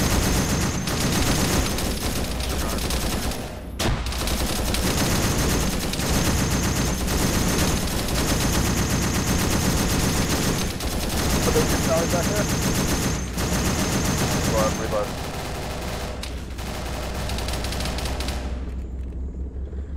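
Dense, continuous automatic gunfire and scattered shots rattle throughout a Vietnam-era ArmA 3 firefight, loud and sustained, with voices of players talking underneath.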